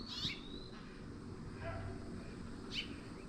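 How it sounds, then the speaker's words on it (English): Barred owls call in the evening from a tree near a rural farmyard, giving faint, distant hoots, with a few thin bird chirps around them over a low background hush. "So those are barred owls"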